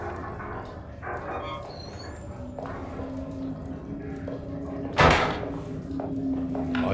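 A door falls shut in the horror video game Alone in the Dark, landing as one sudden loud thud midway through a low, eerie ambient drone.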